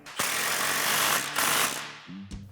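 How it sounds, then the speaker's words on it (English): An impact wrench with a 15mm socket tightening an exhaust clamp on a 2007-2013 Chevrolet Silverado 1500 dual exhaust, two close bursts of loud buzzing hammering followed by a short final rattle. "So grab your impact and 15mm socket, and tighten that down."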